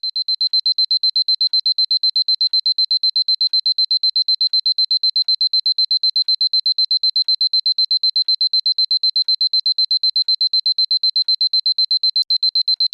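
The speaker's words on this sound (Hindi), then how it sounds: "बंद करो इस अलार्म को यार।" Alarm clock ringing with a loud, rapid, perfectly regular stream of shrill electronic beeps, close and unbroken from start to finish with no other sound.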